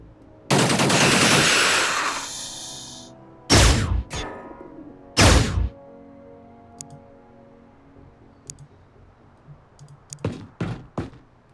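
Gunfire from the turn-based strategy game Xenonauts: a long, loud burst of automatic fire, then a few heavy single shots, followed by scattered fainter pops and short rattling bursts near the end.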